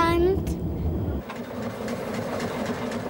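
The Rasender Roland narrow-gauge steam train on the Rügen island railway rolls along at a slow pace, with a steady rumbling run and faint rhythmic clatter under a voice-over narration.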